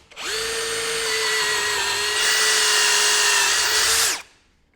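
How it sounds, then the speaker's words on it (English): A Ryobi cordless drill in drill mode with a twist bit spins up and bores holes steadily for nearly four seconds, its whine rising slightly in pitch, then winds down and stops. "we'll drill some holes next to these screws"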